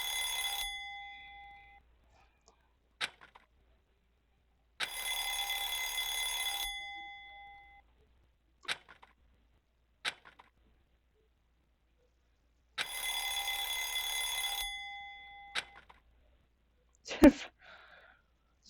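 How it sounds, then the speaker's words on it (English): In the video game Danganronpa Lapse, a phone gives bursts of bright electronic ringing, three roughly two-second rings separated by gaps, with sharp clicks and taps between them. "You don't recognize what a phone sounds like."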